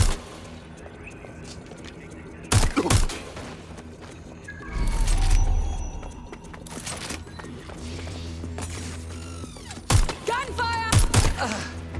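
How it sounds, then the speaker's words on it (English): Gunfire in the video game Watch Dogs Legion, several sharp bursts of shots and booming impacts spaced across the stretch, over ongoing game sounds and music with some voices. "Gunfire!"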